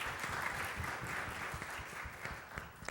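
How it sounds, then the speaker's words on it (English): Audience applauding at a political forum on the tobacco tax, a sustained, moderately quiet patter of many hands that gradually thins toward the end. "let's give Nate and the entire C Political team a round of applause."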